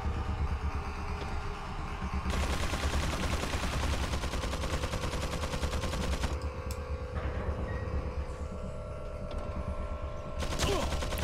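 Rapid automatic gunfire in Resident Evil 4 chatters in long sustained bursts over a constant background hum, with a sharper shot near the end.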